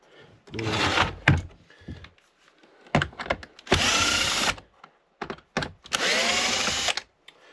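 A power screwdriver whirs out Torx T20 screws from a Miele Complete C2 vacuum cleaner in several loud, close bursts of motor buzz, separated by short clicks and quiet pauses.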